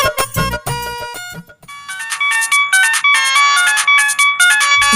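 A mobile phone rings loudly nearby, playing a bright electronic melody ringtone of quick repeating chime-like notes that runs on without a break after a brief pause.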